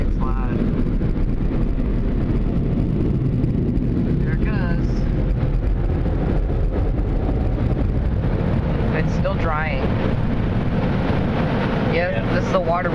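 Older Water Wizard 2.0 automatic car wash machine at a Shell gas station running loudly, a continuous rushing roar of water spray and blowers heard from inside the car, with occasional high whines sweeping across it.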